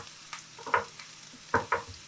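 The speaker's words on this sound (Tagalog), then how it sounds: "Sunod naman yung bawang." Onion and garlic sautéing in a pan for a Filipino kamote balls dish: soft sizzling with a few brief stirring scrapes and clinks, fairly quiet, no talking.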